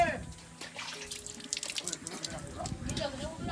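Hot water running from a tap, a steady broadband wash of flowing water with some splashing, heard under nearby voices and background chatter.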